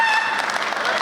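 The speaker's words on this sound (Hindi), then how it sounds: "ताली बजा रहे हो" An audience at a Hindi comedy poetry event claps in a short, close burst of dense applause that lasts only about a second.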